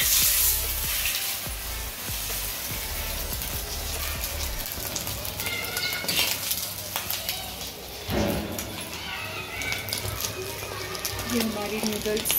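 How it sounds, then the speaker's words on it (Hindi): Noodles boiling in a pot of water on a home stove, a steady bubbling, sizzling hiss running throughout at close range while a person talks over it. "ये हमारी नूडल्स बॉईल हो रही है।"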